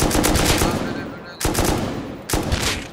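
Rapid automatic gunfire in the Rust survival game, loud close bursts of rattling shots with two brief pauses between volleys, no voices over it.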